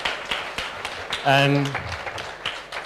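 An audience at a live student presentation session claps for the student presenters. The sparse, soft claps sit beneath a presenter's voice, which briefly rises above them.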